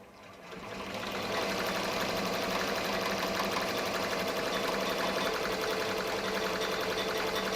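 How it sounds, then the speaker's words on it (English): A Ricoma MT-1501 commercial embroidery machine stitches a letter B into thick leather, a steady, close, fast mechanical chatter that starts softly and then runs continuously at even volume with no talking. "And now it's gonna start embroidering that B again."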